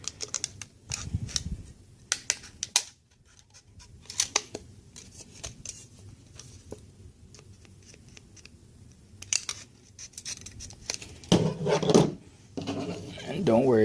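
Scissors snip through a DIY AK rifle heat shield in a series of sharp, close cuts with pauses between them, with someone talking throughout.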